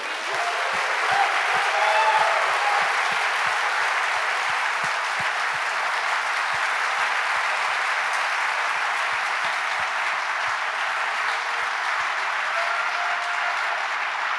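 Sustained applause from an audience at a panel event marking an anniversary, a dense, even clatter of clapping that carries on steadily for the whole stretch, mid-distance and fairly soft.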